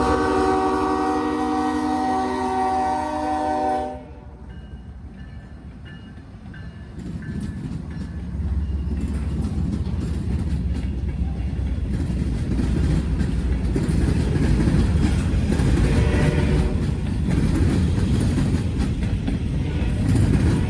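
Freight train L81 sounds a loud sustained horn, then rumbles past close by with rolling wheel noise and rail clatter building over roughly fifteen seconds.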